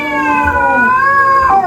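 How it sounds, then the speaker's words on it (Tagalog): A single long, drawn-out cat meow played from a hidden speaker as a prank, loud and close, bending in pitch and trailing off near the end. "Pusa yun eh."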